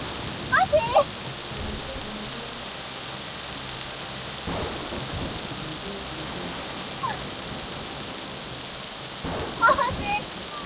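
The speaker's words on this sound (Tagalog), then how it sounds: "Ulan lang to at kidlat." Steady heavy rain hisses throughout while a few low thunder rumbles roll in, with people talking briefly at the start and again near the end.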